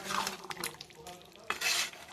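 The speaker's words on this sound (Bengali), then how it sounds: "আলু ভেজে নিচ্ছি" Potatoes frying in oil in a pan give a soft crackle, broken by a few sharp scrapes and stirring clatters of a utensil against the pan.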